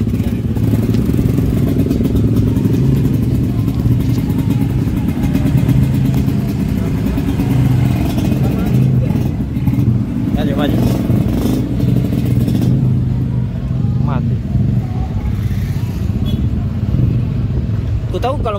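A freshly rebuilt Yamaha RX-King two-stroke motorcycle engine runs loud and close at an evening garage gathering, its rough drone rising and falling with revs while voices talk over it.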